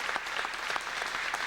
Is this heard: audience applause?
yes